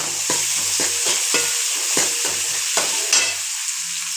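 Onions and curry leaves sizzle in hot oil with mustard seeds in a pan, under a steady bright frying hiss. A spoon scrapes through them in a regular stirring rhythm, close and fairly loud, and the frying continues alone at the end.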